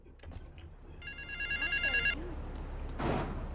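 Telephone ringing in Grand Theft Auto III, a bright electronic trill of stacked tones lasting about a second over low street ambience, followed by a brief burst of noise.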